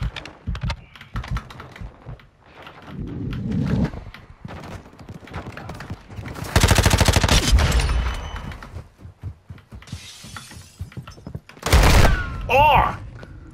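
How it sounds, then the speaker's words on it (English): Gunfire from a PSVR virtual-reality shooting game, heard as two loud, dense bursts of rapid shots separated by quieter stretches, with someone talking throughout. "I actually shot him in the face with this."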